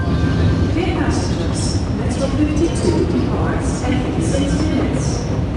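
An Amsterdam metro train rolls along with a loud, steady rumble and wheel noise, high squeals and hisses rising over it, while people talk throughout.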